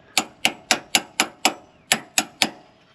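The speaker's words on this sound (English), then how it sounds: "I'm just going to tap the socket on, loosen it." Nine sharp metallic taps of a socket being tapped onto a bolt head on a Ram Promaster shock, steady rhythm, a short pause after the sixth, each strike ringing briefly, close and fairly loud.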